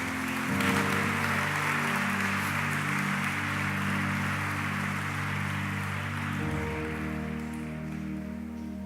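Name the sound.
church congregation applauding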